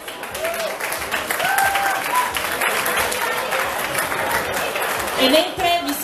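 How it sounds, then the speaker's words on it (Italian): Audience applause as a band is called to the stage at a concert, sustained steady clapping from a crowd for several seconds with a presenter's voice over it. "Un grande applauso."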